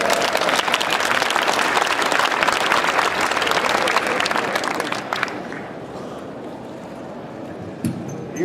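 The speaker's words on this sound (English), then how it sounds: "let's have a big round of applause for Douglas Kohler" An audience claps loudly and continuously for a presenter, a dense wash of applause that thins and tapers after about five seconds into scattered faint clapping and room noise.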